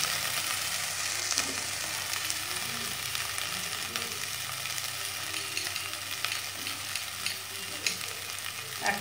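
Ginger paste fries in a pan over a low flame, a constant close crackle and sizzle with a few faint stirring clicks scattered through it.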